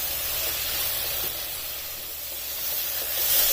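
Vegetables cooking in a pan over a medium-high flame give a steady, loud sizzling hiss that holds evenly throughout and swells slightly toward the end, with no voices.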